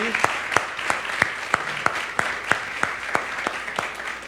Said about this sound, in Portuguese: nós vamos dar uma salva de palmas para o Rock, o pessoal que organizou aí.